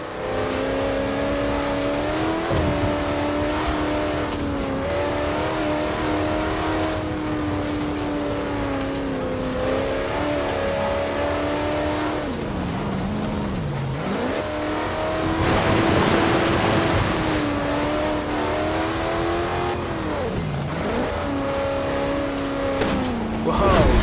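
A Land Rover drives in Forza Horizon 4, its engine droning steadily and close with rising and falling revs and occasional dips as it shifts. A voice talks over it.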